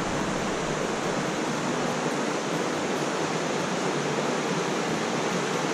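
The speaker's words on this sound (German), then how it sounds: "Da ist jetzt die Sense ein breiter Fluss geworden." The Sense river, grown broad and full with water, rushes steadily through the Gantrisch nature park between Schwarzsee and Plaffeien, a dense, continuous close roar of flowing water with no voices.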